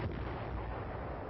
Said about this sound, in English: they get protective fire from 7th Division artillery and a hot reception from the enemy